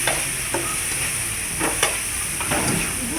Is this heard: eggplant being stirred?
yes